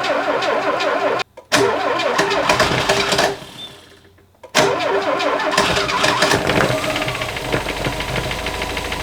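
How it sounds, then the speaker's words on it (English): A Volvo 340 project car's engine cranks for its first start with a loud, rhythmic, whirring starter churn. It stops briefly twice, then keeps cranking steadily. "my Volvo 340 project that took way too many attempts for its first start"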